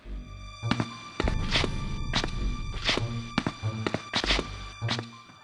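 Footsteps in the 1995 dungeon crawler Stonekeep: a series of hollow thudding steps, moderately loud and close, spaced irregularly over a steady ambient hum.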